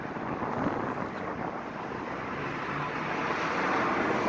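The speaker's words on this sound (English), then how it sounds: "These damn wind." Outdoor wind gusts steadily across the microphone in a low, continuous rumble that swells slightly toward the end, with no one speaking.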